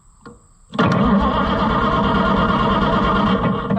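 A White 2-70 tractor, started without its starter button, cranks with a faint click and then turns over into a loud, steady, rough engine drone close by.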